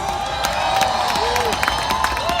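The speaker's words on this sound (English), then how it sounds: "Didn't expect applause for that one either" A large crowd at an outdoor March For Our Lives rally in St. Louis claps and cheers, a continuous dense wash of applause with scattered whoops, moderately loud and steady throughout.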